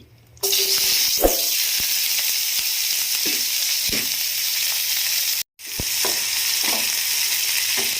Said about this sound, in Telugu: ఇలా ఆయిల్ కొంచెం వేడెక్కిన తర్వాత ఇందులోకి కట్ చేసుకున్న ఆనియన్ అలానే పచ్చిమిర్చి